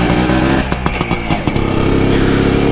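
A WSK 125 motorcycle's small two-stroke engine revs loudly up close in a series of sharp bursts, then settles into a steady buzzing drone as the bike pulls away.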